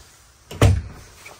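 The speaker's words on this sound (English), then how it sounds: "Is a pocket door to be able to close off this bathroom." A single short thud and rolling slide as a bathroom pocket door in a 2024 Renegade Classic 45CMR motorhome glides shut in a quiet room, followed by a faint trailing rattle.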